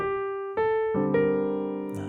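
A few sustained keyboard notes and chords, with eighth-note pairs shifted to count two over a 2-5-1 progression, enter one after another and ring close and clear, with no voices.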